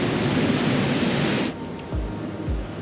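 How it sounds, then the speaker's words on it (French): Loud, steady roar of ocean surf at a beach with strong current, broadband wash filling the first half before easing into a lower rumble with a couple of deep thumps as waves break. "il y a trop de courant, il y a trop de vagues"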